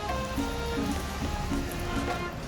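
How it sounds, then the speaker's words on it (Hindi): Heavy rain pouring steadily on a rainy morning stop during a motorbike tour to Fairy Meadows, a dense continuous hiss with scattered drop impacts and faint background voices underneath. "बारिश काफ़ी तेज़ है"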